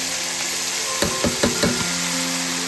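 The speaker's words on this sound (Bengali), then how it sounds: "এবার আমি এটা কড়াতে দিয়ে দেবো। বাটিটা ধরে ঢেলে দিই।" Food hits a hot karahi for a thor recipe, setting off a loud, steady sizzle with a few quick knocks of a bowl against the pan partway through.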